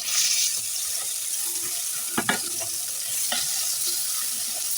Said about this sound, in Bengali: তো মাছটাকে আমি হালকা হলুদ মরিচ লবণ দিয়ে হালকা করে ভেজে নেব